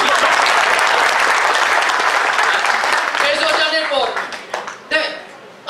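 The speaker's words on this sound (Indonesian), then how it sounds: "tepuk tangan dulu Bapak Ibu" A large audience at an Indonesian training seminar bursts into loud, dense clapping that holds for a few seconds and then thins out into scattered claps, with a speaker's voice returning as it fades.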